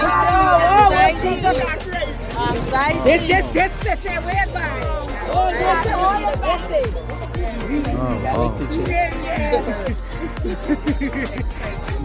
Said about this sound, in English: They came out to the crowd, the welcoming crowd.